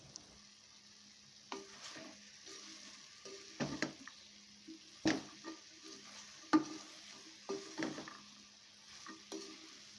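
Vegetables sauté in a pan over a low-medium flame for brinji rice, with a steady faint sizzle broken by intermittent scraping stir strokes and soft clinks spread through the whole stretch.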